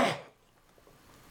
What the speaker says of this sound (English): I cannot clear my throat.